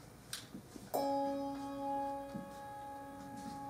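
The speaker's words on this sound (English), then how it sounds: "So I actually, with a bell this big, I can make a crescendo." Large handbell struck once, its long sustained ringing tone swelling slightly in loudness rather than decaying, holding steady for several seconds after a few soft taps beforehand.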